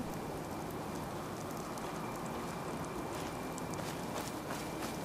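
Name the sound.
rain falling in the video game Fallout 4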